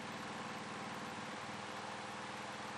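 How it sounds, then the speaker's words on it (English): A GM3000 generator engine running steadily after starting, a continuous, fairly faint mechanical drone with an even buzzing hum and no voices. "Turn the key switch to the right and start the engine"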